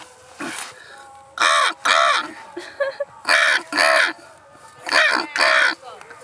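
A crow cawing loudly and close, six or so harsh calls in an uneven series with short gaps between them, plus a few softer sounds in the pauses.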